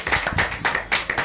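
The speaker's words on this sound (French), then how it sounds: "On peut applaudir Kader." Applause from a small audience on a French entertainment show, a few seconds of quick, uneven clapping bursts with no talk.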